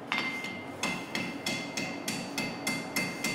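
Blacksmith's hammer striking iron against an anvil during art ironwork forging, a steady series of about eight sharp metallic blows at even intervals, moderately close, with no talk.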